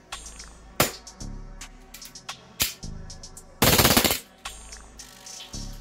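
An Elite Force Glock 18C airsoft pistol with an extended magazine fires indoors, giving sharp isolated snaps followed by a short full-auto burst of rapid cracks, loud and close in a small room.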